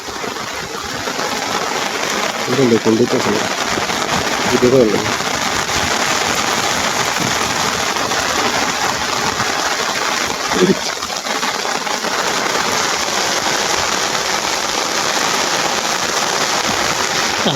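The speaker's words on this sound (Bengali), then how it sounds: "বৃষ্টি নামতে আছে সেই বৃষ্টির মধ্যে দেখেন গ্রামের বিল থেকে ধরা" Heavy monsoon rain pours over a village wetland in Barishal, a loud, dense, steady hiss with a few brief knocks and splashes near the start.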